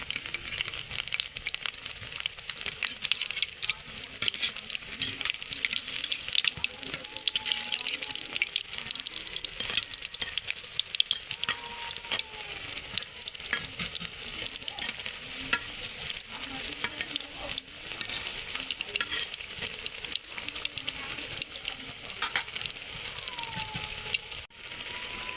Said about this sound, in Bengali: যেভাবে একটা একটা করে দিয়ে দিব তেলে ভাজার জন্য।